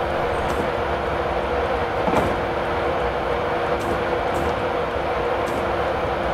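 Class 91 high-speed electric locomotive running downgrade with throttle cut back on the London to Stevenage line, a steady broadband rumble and rush of rolling noise with faint periodic clicks from the track.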